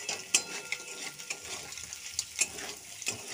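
Egg is stirred into spiny gourd (kakrol) bhujia in a pan, a soft steady sizzle with close, repeated scraping of a spatula and occasional light metallic taps.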